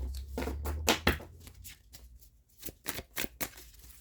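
Tarot cards are shuffled close up in a series of crisp riffling bursts, fairly quiet, with short pauses between them and no talking.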